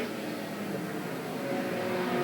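Race cars roaring past on the Willamette Speedway oval coming out of turn four, a dense continuous engine drone from several cars heard from a distance, steady and fairly loud, no talking.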